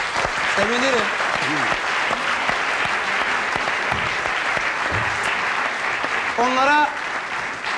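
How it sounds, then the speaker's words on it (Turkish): Studio audience applauds on a 1998 Turkish television variety show, steady loud clapping throughout with a voice speaking over it and brief musical tones. "Huzurlarınızda alkışlarsanız sevinirim."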